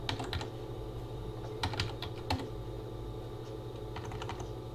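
Quick bursts of keystrokes on a computer keyboard, in a few short clusters over a steady low hum of room noise, with no voices.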